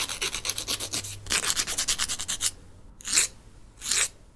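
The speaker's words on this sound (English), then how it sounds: "The sound of someone filing their nails." Steady rapid rasping strokes, close and fairly loud, in bursts with short pauses, like a nail file scraping back and forth.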